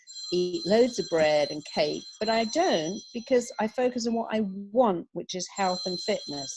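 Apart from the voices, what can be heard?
alarm going off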